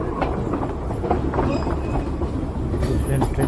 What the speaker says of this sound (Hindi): ट्रेन अब बैक ले रही है।